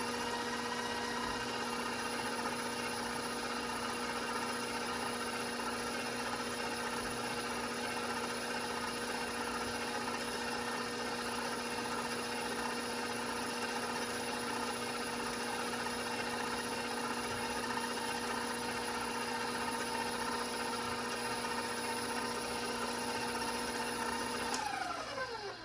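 Electric mixer beating chocolate muffin batter with eggs, a steady, even motor whine with a constant pitch throughout, close and continuous, slowing down at the very end.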